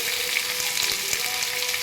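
Vegetables fry in a pan with a steady, loud, close sizzle and faint crackles throughout, no voices.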